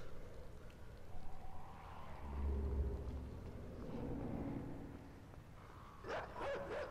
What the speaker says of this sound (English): Oh god, there's dogs!